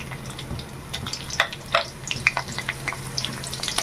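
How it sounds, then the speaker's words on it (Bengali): Crushed garlic and green chili frying in hot oil for a khoira fish dish, giving a steady soft sizzle with a few sharp spatters and utensil clicks, close by and without talk. "তেলে দিয়ে দেবো কিছুটা রসুন থেতো করে নিয়েছি কাঁচা মরিচ"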